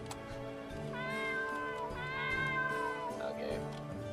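Cats meow inside a video game, with two drawn-out, whining meows in the middle, fairly clear, heard over the game's music and ambient sound.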